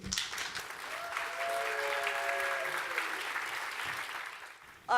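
An audience at a developer conference talk applauds to welcome a speaker, steady loud clapping from a crowd that holds for several seconds before ending abruptly.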